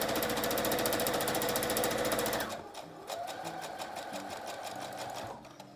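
A sewing machine stitches a washable cloth face mask, running in a fast, even, loud mechanical rattle for over two seconds, then slowing into softer uneven clicks and short bursts, close and without talk.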